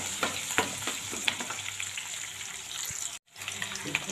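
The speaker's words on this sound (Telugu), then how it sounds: "ఇవన్నీ బాగా కలిపేసుకుందాం." Upma ingredients with green chillies stirred in a pan: continuous sizzling with irregular scraping spoon strokes close up, a brief dropout near the end, no voices.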